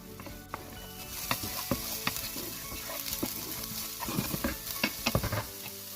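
Finely sliced green chili sizzling in hot oil in a pan while a spoon stirs and scrapes, steady frying hiss broken by irregular clinks and scrapes, close up and fairly quiet.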